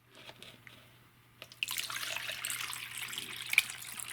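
Water poured out of soaked coco coir and hardwood pellet bedding gives a soft splash that turns into a steady, faint trickling stream, preceded by a few quiet drips and clinks.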